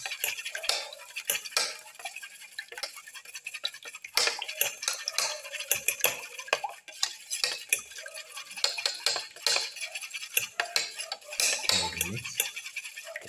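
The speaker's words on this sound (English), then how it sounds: "Mix the yellow and the white portion of the eggs together." Eggs being whisked in a bowl for a black pepper ginger omelette, rapid irregular clinking and tapping of utensil against the bowl, close and continuous.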